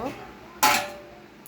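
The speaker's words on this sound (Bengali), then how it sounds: "এবার আমি এটাকে ঢেকে দেব" A lid is set onto a metal pot of chicken curry, making a single sharp metallic clank that quickly rings out over quiet kitchen background.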